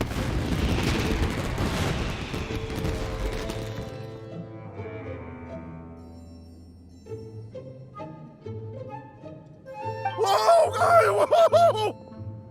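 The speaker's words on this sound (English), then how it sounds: "Yoimiya, this is turning into a bit of a fireworks display." Fireworks burst in the Genshin Impact game: a heavy blast and roar up front fade into a musical score, then a fresh cluster of crackling, whistling pops bursts near the end, fairly loud.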